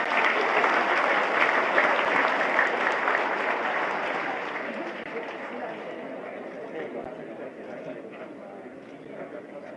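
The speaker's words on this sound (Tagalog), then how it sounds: "You clap your hands." A live audience claps together at an event in Baguio City, the applause loud at first and gradually thinning and fading over about ten seconds, with a faint murmur of chatter underneath.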